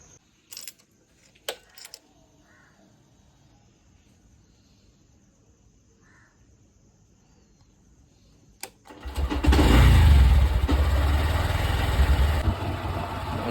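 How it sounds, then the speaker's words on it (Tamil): A vehicle engine cranks and starts on a cold, wet stormy morning, then settles into a loud steady idle and pull-away after several seconds of near silence broken by a few faint knocks. "வண்டியை தட்டியாச்சு, கிளம்பி போயிட்டுருக்கோம்."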